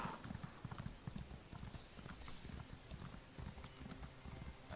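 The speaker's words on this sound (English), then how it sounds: "Alright, now that I got the skooma, I'm going to call my trusty steed." Hooves of a summoned horse in a video game, a quick steady clip-clop of trotting, faint and continuous across the whole stretch.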